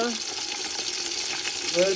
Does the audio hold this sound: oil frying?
yes